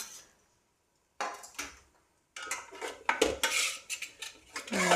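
Noodles tossed with carrot and capsicum in a pan at home, with bursts of metal utensil scraping and clattering against the pan in short irregular strokes, close and fairly loud, separated by brief pauses.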